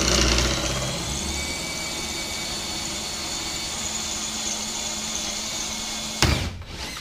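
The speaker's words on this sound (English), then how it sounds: "I'm just going to drill them out too" A power drill whines steadily at close range for several seconds, drilling out rivets on a Tracker boat transom, then cuts off abruptly near the end, followed by a brief clatter.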